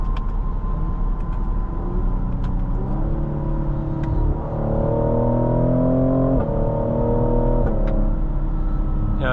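A 2024 Cadillac CT5-V sedan accelerating, heard from inside the cabin as a steady engine drone that climbs in pitch through the gears, with brief drops at each shift and no talking.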